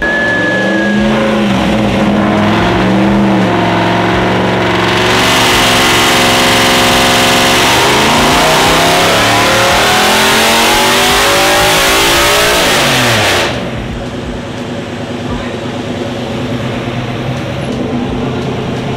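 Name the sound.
LS2 V8 engine in BMW E46 drift car revving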